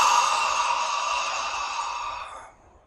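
A single long, close exhale during a counted breathing exercise, a steady airy breath lasting over two seconds before fading into quiet.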